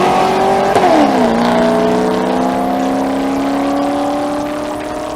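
A C5 Corvette on a drag strip launches hard, its engine climbing in a sharp rising rev before settling into a steady high-pitched roar that holds for several seconds, then fades slightly as it pulls away.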